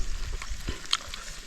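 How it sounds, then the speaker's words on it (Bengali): Food frying in a pan, a faint, soft sizzle with a few light stirring scrapes and small clicks over a short span. "ভাজা মোটামুটি কমপ্লিটের দিকে"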